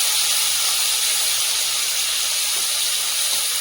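Chopped onions hitting hot oil in a cooking pan, a loud, steady, close hiss of sizzling that holds without a break for the whole stretch.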